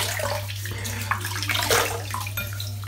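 Running tap water splashing as a head is wetted before a head shave, a continuous close splash with small fluctuations and brief louder gushes, heard alone without talking.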